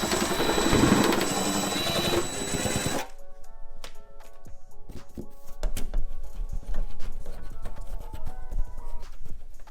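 Thread tapping of bolt holes in a rear widebody bumper piece on a 3000GT VR4, a loud dense mechanical whirring for about three seconds that then stops, leaving scattered faint clicks and ratcheting taps.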